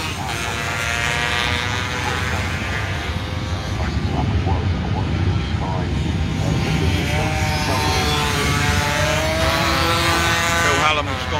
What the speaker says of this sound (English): Simon, Bob, guys coming around the back, still on their last lap.